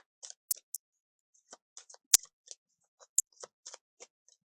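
A deck of Bach flower remedy cards is shuffled, producing sparse, crisp ticks and snaps spread irregularly across a few seconds in an otherwise silent room.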